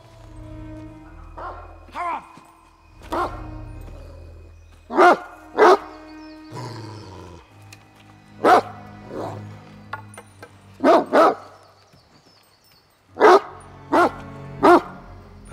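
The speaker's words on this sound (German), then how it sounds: "Angst vor einem Hund?" A dog barks in repeated short bursts, often in quick pairs, fairly close and loud, set in a dark fairy-tale drama with a low background hum between the barks.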